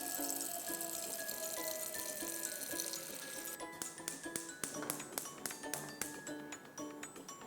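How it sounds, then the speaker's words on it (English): Water running from a kitchen sink tap into a small pot, a soft steady trickle and gush joined later by rhythmic metallic clinks and taps, fairly quiet and close. "I'm getting water from the sink."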